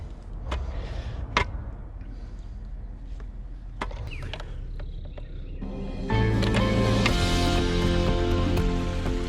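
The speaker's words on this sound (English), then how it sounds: "We're gonna turn the pumps on." Pond water pumps start up for a filtration pond with a waterfall. Scattered taps and drips give way to a sudden steady rush of running water that stays loud to the end.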